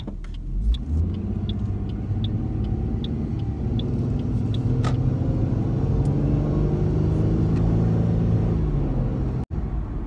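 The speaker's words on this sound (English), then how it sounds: "Hang on, my car sounds really weird." A car engine runs steadily on a cold day with an odd, uneven rumble and low droning tones that shift and slowly fall, heard close up from inside the car and without talk, ending in a brief dropout.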